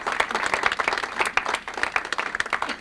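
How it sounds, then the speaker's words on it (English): Guests at a Christmas party clap in a brief, lively burst of applause, close and moderately loud, with scattered claps rising and falling and a few voices in the mix. "let's give Daryl a big round of applause"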